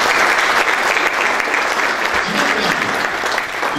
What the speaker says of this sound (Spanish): Fuerza de aplauso para ellos, por favor.